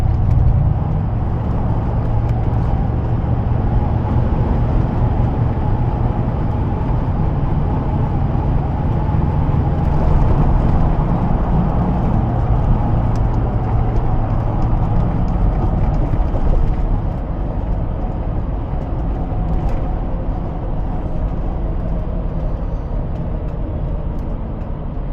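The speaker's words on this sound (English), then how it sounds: "There's just nothing like the sound of a wagon's 4-liter V8" A Mercedes-Benz G550 4x4 Squared with a 4-liter V8 driving in traffic, its engine a steady low rumble from inside the cabin, easing slightly in level partway through, with no talk.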